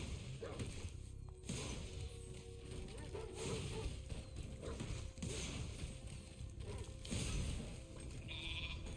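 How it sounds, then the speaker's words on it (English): Sheep bleating in Spyro the Dragon Reignited, heard amid busy game sound effects, clanks and mechanical noises, with a brief bleat near the end over a continuous loud game soundtrack. "He's a sheep."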